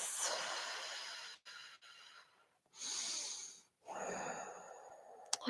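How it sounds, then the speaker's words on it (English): Deep, slow breathing during a yoga class, long audible inhales and exhales close to the listener separated by quiet pauses, with no talking. "Deep breaths."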